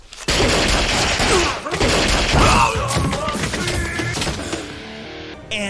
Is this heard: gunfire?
yes